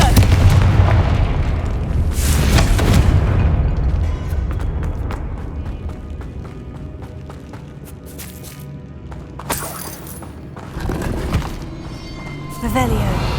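Confringo explosive spell blasts in a Harry Potter video game set in a decayed tomb, loud booming bursts near the start with rumbling debris and further impacts later, under a character's voice.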